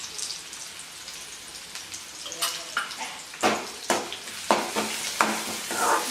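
Onion frying in a pan with garlic-cumin paste, a soft background sizzle broken by repeated scraping and stirring strokes from a spoon, growing busier and more rhythmic toward the end.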